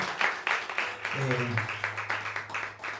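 A church congregation applauds during a Spanish-language service, a dense rhythmic patter of many hands clapping while a voice speaks over it and a sustained low tone hums beneath.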